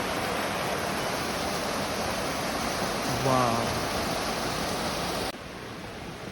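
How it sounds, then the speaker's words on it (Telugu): Steady broadband rush of water falling at a small waterfall in Japan fills the scene, with a short exclamation from a voice partway through before the roar drops slightly in level. "చిన్నదే water fall, but it's so good."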